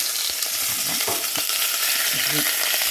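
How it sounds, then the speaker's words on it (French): A slice of lamb leg browns in butter in a pan, giving a dense, steady sizzle and crackle up close, with occasional light scraping and clinks over it. "Donc je la fais dorer des deux côtés, bien comme il faut."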